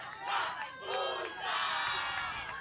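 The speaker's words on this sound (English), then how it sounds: "As you can see, the Namibian crowd there is happy and on the behind the boys the whole time" Namibian crowd at a volleyball match against South Africa cheering as Namibia wins the set, loud massed shouting and chanting in repeated surges that swell and fade over a couple of seconds.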